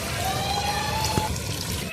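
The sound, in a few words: water poured into aloo gosht curry pot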